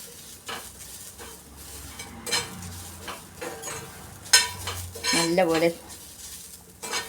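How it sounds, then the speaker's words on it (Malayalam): Coconut and pepper masala for Kerala fish curry roasting in a pan, with a metal spoon scraping and clinking against the pan amid a soft sizzle, louder stirring knocks near the end and a brief spoken word. "ഇളം ചുമപ്പ് ബ്രൗൺ കളറാകുന്നത് വരെയും വറുക്കണം."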